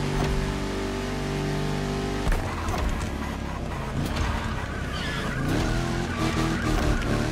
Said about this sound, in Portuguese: Meti até um drift ali pra você ficar esperto.